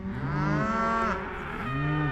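Cattle in a pasture lowing, with two long, deep moos close by, the second rising after a short pause, loud and clear with no talk.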